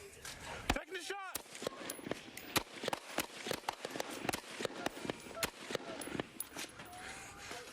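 Police officers fire a string of gunshots at a suspect, sharp cracks scattered irregularly over several seconds, recorded from a distance with voices shouting.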